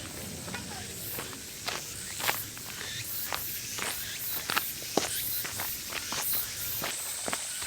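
Footsteps crunch steadily down a summer mountain trail on Gulamsan toward a valley stream, a close, irregular series of scuffs and steps over faint rustling background noise.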